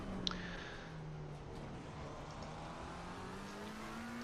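McLaren 720S engine pulling hard on track at Spa, a steady rising drone with a climbing pitch line, loud and continuous throughout.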